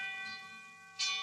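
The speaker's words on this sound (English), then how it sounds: "That's a 3-alarm." Fire alarm bell sounding a 3-alarm signal in an old radio drama, a sustained metallic ring that grows louder near the end, with no talk over it.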